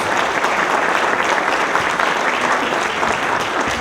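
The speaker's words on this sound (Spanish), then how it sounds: "les pediría ahora sí un aplauso porque estuvieron aportándonos mucho" Sustained applause from a seated audience at a public panel discussion on transparency in reconstruction, dense steady clapping filling the room without a break and no talk over it.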